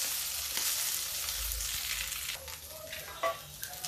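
Potatoes frying crisply in hot oil in a pan, a steady close sizzle with occasional stirring scrapes and small pops.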